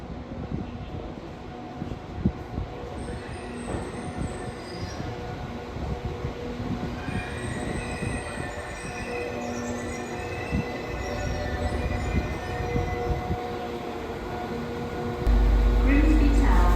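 Train arriving at a platform in Sheffield station; a steady rumble with high wheel squeals throughout, while a station announcement plays over it.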